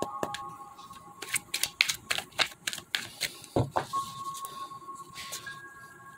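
Tarot cards being shuffled, a quick series of crisp riffling clicks and taps in uneven bursts, close and fairly quiet with no talk.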